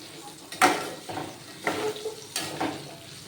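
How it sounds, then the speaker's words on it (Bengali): Salted potatoes fry slowly in a pan over a low flame, giving a gentle close sizzle broken by about four separate scraping stirs spaced through the moment. "এটাকে লো ফ্লেমে আস্তে আস্তে করে ফ্রাই করতে হবে যাতে সিদ্ধও হয়ে যায় আর ফ্রাইও হয়ে যায়"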